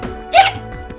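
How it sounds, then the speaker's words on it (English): A single short, sharp hiccup in the visual novel Ever 17 stands out once against quiet background. "Sorry, that was a hiccup."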